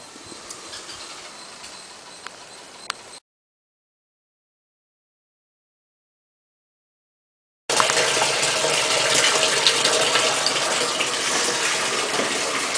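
Rainwater from a rooftop harvesting system pours into a storage tank as a dense, rushing hiss, at first faint, then after a silent gap loud and close, steady to the end.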